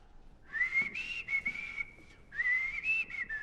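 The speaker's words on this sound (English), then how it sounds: "Who dare whistle that way in my palace?" Someone whistles a wavering tune in a palace, in two clear phrases with a short pause between them. The whistling is close and stands alone over a quiet background.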